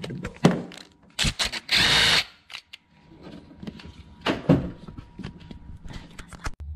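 Bolts are removed during a car spark plug change, heard as short bursts of a power tool whirring and clicking, separated by metallic clunks and handling noises, close up.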